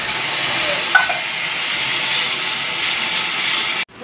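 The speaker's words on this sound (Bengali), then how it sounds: "এবার আমি যে মশলা মিক্সিটা ধুয়ে রেখেছি সেই জলটা দিয়ে দিচ্ছি।" Water used to rinse a spice grinder is poured into a wok of frying red chilli powder and spices, giving a steady loud sizzling hiss with a brief splash near the start, then cutting off abruptly.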